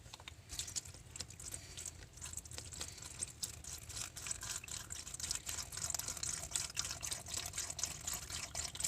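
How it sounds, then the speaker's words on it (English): Vegetable broth pours steadily into a cooking pot, a continuous liquid splashing and pattering that stays fairly quiet and even throughout, with no talking. "And then we add the broth."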